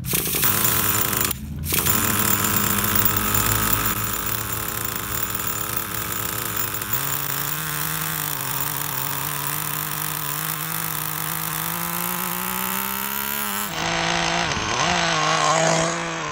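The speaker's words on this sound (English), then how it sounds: "press this button, boom, it fires right up" A nitro-powered Traxxas T-Maxx RC monster truck engine screams loudly and continuously, pitch rising and falling with throttle, briefly cutting out near the start before roaring on.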